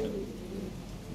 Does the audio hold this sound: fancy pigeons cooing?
yes